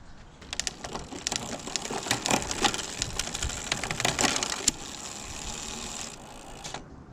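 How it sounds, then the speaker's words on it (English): Rapid mechanical clicking and ratcheting from a bicycle's rear derailleur as the gears are shifted through, a busy run of close clicks over a steady whirr of a spinning drivetrain, no talking. "Now it's time to check out the shifting."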